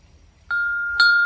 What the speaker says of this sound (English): You're gonna ring the work stoppage bell.